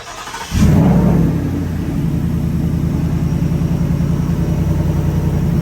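A car engine cranks and catches after an oil top-up, then settles into a steady running idle, loud and close, with no talking.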